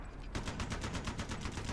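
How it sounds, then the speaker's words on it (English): Rapid automatic gunfire in a strategy video game battle rattles in a fast, even burst of loud repeated shots. "Incoming enemy fire!"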